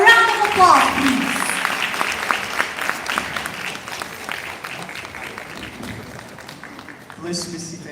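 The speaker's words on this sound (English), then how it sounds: "A round of applause, please." A graduation audience applauds the Senior High School Department Head, with steady crowd clapping that starts loud and fades gradually, mixed with some voices at the start and end.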